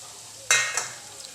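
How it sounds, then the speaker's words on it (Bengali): Fried semolina is tipped into a pan of frying vegetables and stirred, giving a sudden sizzling scrape and clatter that fades out with a brief second scrape, close up over a low kitchen hum. "আমি সুজিটা যেটা ভেজে রেখেছিলাম সেটা এর মধ্যে দিয়ে দিব"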